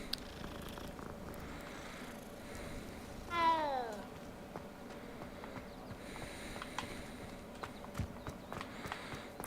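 A cat in the video game Hogwarts Legacy gives one clear meow with a falling pitch while being petted, followed by soft purring and scattered light footsteps over quiet ambience.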